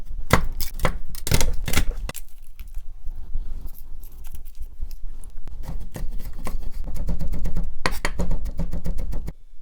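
A knife chops garlic on a cutting board, sharp repeated knocks coming in quick bursts with short pauses between, loud and close, with no talk over it.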